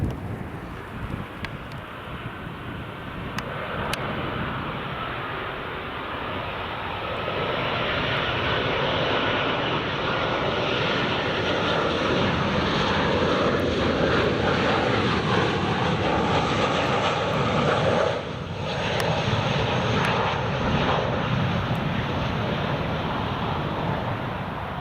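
A TUI passenger jet arriving at Newcastle Airport in warm weather, its engines a steady, loud, broad roar that swells and holds throughout, with some wind buffeting the microphone.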